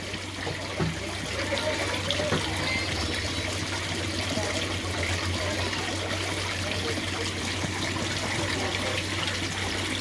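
An airstone bubbling water in a koi pond filtration setup, a steady rushing and trickling of aerated water with a low hum underneath, voices briefly present at the start.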